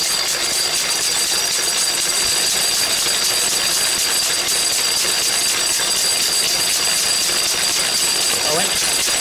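A Lister D engine drives a paint mill grinding chalk, producing a dense, continuous rattling clatter with metallic grinding, loud and close, with people talking over it.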